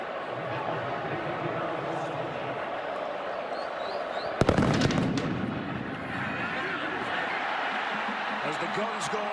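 A sharp blast of guns fired inside a stadium at an Oklahoma State at Oklahoma college football game, a single loud bang that echoes through the crowd roar, with a commentator talking throughout.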